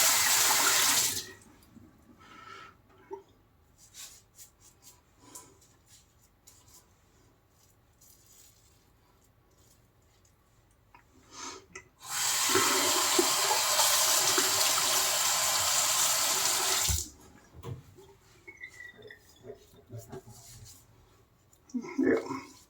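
Water running from a tap during a rinse between passes of a double-edge razor wet shave, a steady loud gush that starts and stops, with quieter splashing and handling noises around it.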